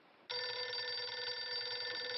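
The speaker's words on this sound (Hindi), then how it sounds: "फोन मत उठाना" A telephone suddenly starts ringing indoors, a loud, bright, sustained electronic ring that begins abruptly after a moment of near silence and continues unbroken.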